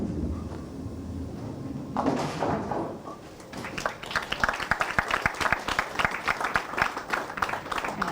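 An indoor crowd at Lucky Lanes bowling alley applauds, a cheering section clapping in dense, steady bursts that build after a quieter, murmuring start with a thud or two.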